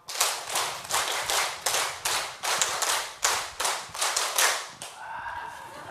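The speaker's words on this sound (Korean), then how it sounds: "자, 박수 15번 한번 쳐보겠습니다." At a Bible lecture, an audience claps in tight unison, a rapid, evenly spaced series of around fifteen loud, sharp claps, then a speaking voice takes over.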